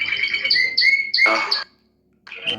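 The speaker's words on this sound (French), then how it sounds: "Les oiseaux aussi derrière toi." Birds chirp and squawk close by in a rapid string of bright, sliding calls, pausing briefly before another burst starts, with no talk over them.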